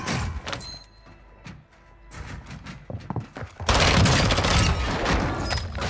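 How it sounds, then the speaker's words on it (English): Frag grenade explosions in Call of Duty Warzone, scattered thumps and bangs of gunfire leading into a loud, sustained blast rumble that fills the last couple of seconds, with no talking. "How's he throwing frag grenades?"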